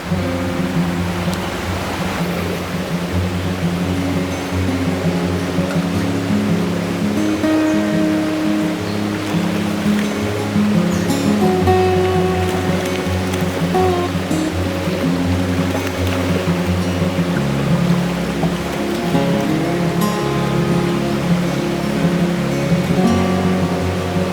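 A summer stream with mossy rocks flows in a loud, continuous rush of water. The wash holds steady and close with no talk.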